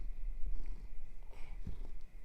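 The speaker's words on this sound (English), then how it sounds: "He is our handy cat." Shop cat, an old toothless cross-eyed male, purring close up as a steady low rumbling drone throughout, with faint background hum and no talking.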